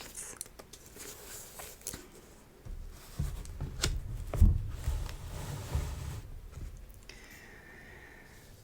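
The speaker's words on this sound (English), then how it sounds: "So I will be doing some flipping through." Paper pages are flipped and rustled close up in a quiet room, with soft crinkles and brushing swells in the middle of the stretch and no talk.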